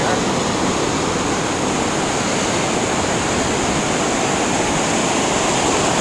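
Loud, continuous roar of surf, a dense wash of crashing waves with no pauses, steady and close throughout.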